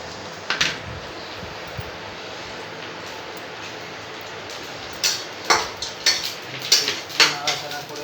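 Whole garam masala spices and a bay leaf stirred in a cooking pot, with a run of light metallic clinks and scrapes from a spoon in the second half over steady kitchen fan noise.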